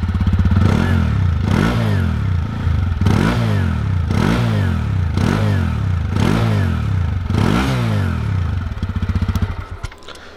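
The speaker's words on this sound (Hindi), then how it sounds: "अब मैं आपको इसका एग्जॉस्ट नोट कराना चाहूँगा कि कैसा इसका एग्जॉस्ट है।" A TVS Apache RTR 180 BS6 motorcycle idles with a steady exhaust thrum, then revs in about six repeated throttle blips at a regular rhythm, loud and close, settling back toward idle at the end.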